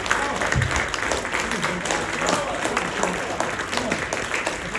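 At the close of a stand-up comedy show, the audience claps continuously, a dense and steady round of applause that stays loud for the whole stretch, with a faint voice under it.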